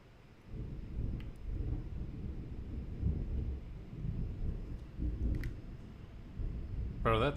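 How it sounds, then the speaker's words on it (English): Thunder rumbles in the video game The Outer Worlds 2, a long, low rolling roar that swells and fades repeatedly, loud and close, with a brief voice at the very end. "Bro, that thunder is loud."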